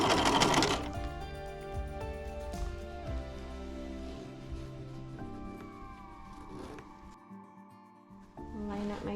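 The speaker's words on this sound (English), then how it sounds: "I will put it up and I will sew this one" A sewing machine stitches a quilted table runner from a Sparklers sew-ready kit, its steady motor hum and rapid needle chatter running close and continuous, pausing briefly near the end before resuming.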